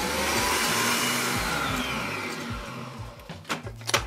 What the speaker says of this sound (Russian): Еще раз взбиваем мощненько.